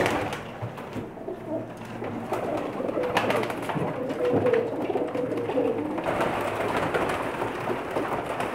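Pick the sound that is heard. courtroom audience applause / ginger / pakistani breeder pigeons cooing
pakistani breeder pigeons cooing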